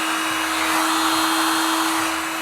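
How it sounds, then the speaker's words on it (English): A heat gun blows steadily on foil wrapped over a hot sauce bottle, giving a constant close whooshing airflow with a fixed motor whine and no breaks. "got your heat gun."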